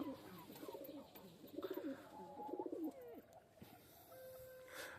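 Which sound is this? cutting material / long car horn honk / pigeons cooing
pigeons cooing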